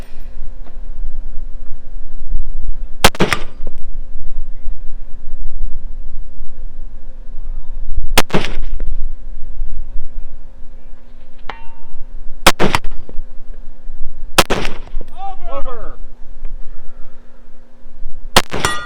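Several separate pistol shots ring out during a practical shooting match stage in a high desert setting. They are spaced a few seconds apart over a steady background hum, and each shot is loud and sharp with a quick echo.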